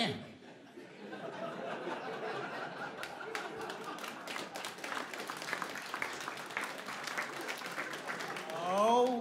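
A comedy audience claps and laughs after a joke, scattered clapping building into fuller applause with chuckles mixed in, moderately distant, ending as a voice starts speaking.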